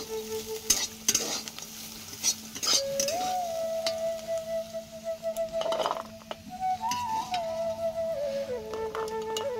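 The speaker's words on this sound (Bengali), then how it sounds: "আর এই যে পালং শাক চচ্চড়িটা বসিয়ে দিলাম, মূলো, বেগুন, আলু আর একটু গাজর দিয়েছি।" Spinach chorchori with radish, eggplant, potato and carrot sizzles in a pan, with stirring scrapes, clinks and a whistling tone drifting across the steady frying hiss.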